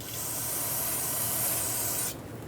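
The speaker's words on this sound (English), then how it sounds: "go ahead and clean it up with brake parts cleaner." Loud, continuous hiss of brake parts cleaner sprayed from an aerosol can onto the brake caliper of a 2006-2011 Honda Civic, a single sustained burst lasting about two seconds before cutting off abruptly.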